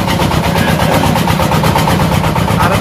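Many boat engines on a river drone together in a loud, continuous low rumble with a steady throbbing pulse, close by and filling the scene without letup.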